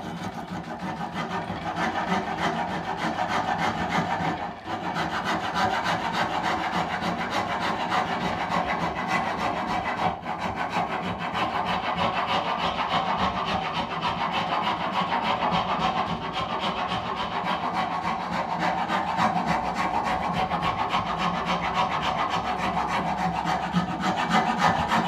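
Coarse sandpaper rubs over a wooden table leg. A continuous, close, rasping scrub carries on for the whole stretch, broken only by a couple of brief pauses.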